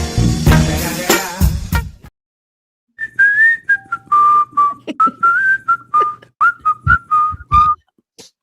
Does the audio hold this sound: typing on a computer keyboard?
no